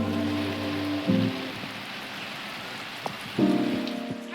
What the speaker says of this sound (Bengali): ভালো জল পড়ছে না?